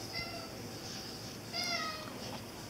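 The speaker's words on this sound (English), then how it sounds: "Here comes my cat." A pet cat meows indoors in a home workshop, with two drawn-out, fairly close meows a second or so apart over a quiet room hum.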